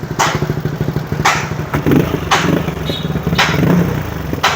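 A 220cc motorcycle engine fitted with a JVT V2 exhaust pipe runs on a Dynojet dyno, a steady mid-pitched engine drone with loud, sharp bursts of rasp recurring about once a second throughout, with no talk.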